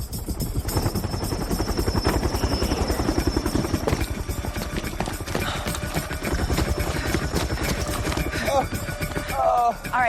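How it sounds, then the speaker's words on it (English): A medevac helicopter in a film scene beats with a loud, rapid rotor chop that fills the whole stretch, with engine whine overhead and faint voices under it. "We're scrambling a chopper."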